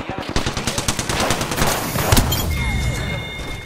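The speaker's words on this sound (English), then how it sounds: "Opening fire on the enemy." Rapid bursts of automatic gunfire from a team-based shooter video game, loud and repeated in quick rhythmic volleys with a few heavier thumps, while players talk over the shooting.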